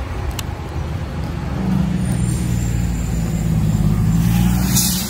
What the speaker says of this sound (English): It's gonna be hard to hear with all this traffic.